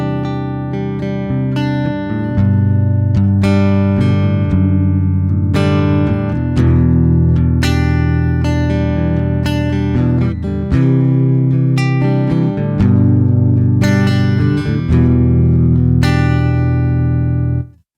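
Clean electric guitar played through the Polychrome DSP McRocklin Suite amp plugin, ringing chords and single notes with long sustain, steady and close for about eighteen seconds with no talking.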